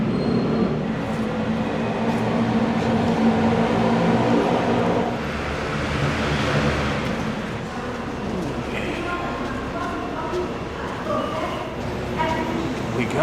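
A Bangkok MRT Pink Line train pulls out of the station with a rising electric whine and rumble, under a busy platform hum and people talking nearby.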